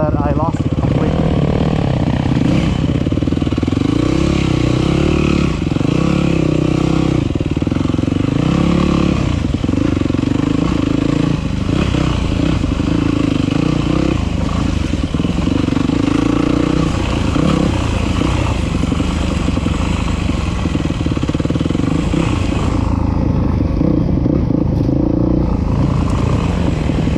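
Dirt bike engine, a WR250F or YZ250FX, ridden hard through technical woods on the Tomahawk C loop, with a loud, continuous, rising and falling drone from start to finish and talk running over it.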